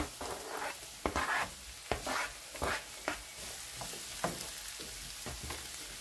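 Pork chops and tomatoes fry in butter in a pan, giving a steady close sizzle broken by several sharp stirring and turning clatters spread across the clip.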